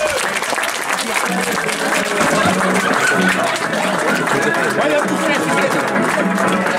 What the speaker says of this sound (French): on l'applaudit tous très fort, qu'il le mérite